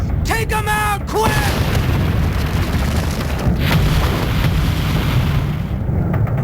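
In the Nintendo DS game Call of Duty: World at War, enemy ships fire artillery at the player. Heavy booms roll out over a dense, constant rumble of battle noise, and a short burst of game voices or radio chatter comes first.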